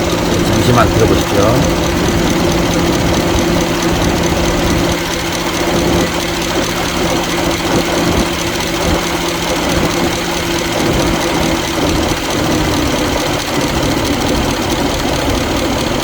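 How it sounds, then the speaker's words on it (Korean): The cooling fan of a Genesis EQ900 with a 5.0L engine runs as a steady, loud whir over the idling engine hum and stays even throughout. A voice speaks briefly near the start. "지금 이 소리 들리니까 엔진 판 돌아가는 소리입니다"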